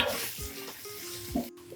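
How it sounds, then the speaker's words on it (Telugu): Onions and cashew nuts fry together in a pan until golden brown, a soft steady sizzle broken by a few stirring scrapes and clinks, close and moderately quiet with no talking. "ఈ 2 బాగా బ్రౌన్ కలర్ వచ్చే వరకు వేయించుకుని మిక్సీలో పేస్ట్ లాగా పట్టుకోవాలి"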